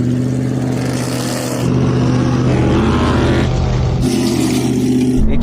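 Hennessey Mammoth and Hummer H2 launching side by side in a drag race, big engines roaring and surging with shifting pitch, loud and steady, with no voices over the engine noise.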